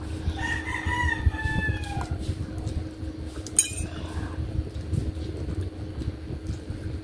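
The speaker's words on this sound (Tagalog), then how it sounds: "Ang ingay ng mga manok." A rooster crows once near the start, followed by scattered clucks, a clink of metal, and a low background hum.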